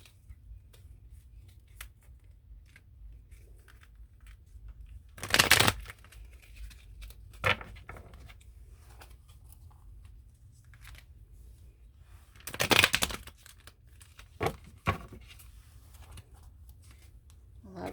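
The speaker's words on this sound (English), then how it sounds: "Now let's pull some Lovers Oracle cards." Lovers Oracle cards being shuffled by hand in two main bursts of riffling and slapping, with a few lighter card taps between them, close and fairly quiet in a still room.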